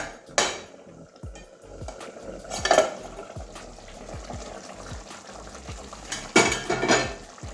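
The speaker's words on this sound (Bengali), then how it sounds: "এবারে ঢাকনাটা খুলবো" A lid comes off a pot of taro and potato curry with two clear metallic clanks of the lid against the rim, amid quieter ongoing clatter and scraping of utensils in a home kitchen.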